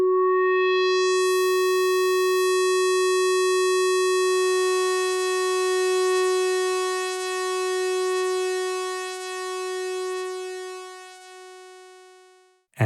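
Pulse oscillator B of the Maschine+ poly synth holding a single sustained buzzy tone, steady and bright, slowly thinning and fading over about twelve seconds, alone with no voice.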